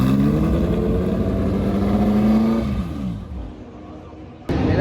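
Porsche 2-litre race cars rumble at Dijon-Prenois circuit, a loud sustained engine drone that rises in pitch, then fades away before another car bursts in close at the end.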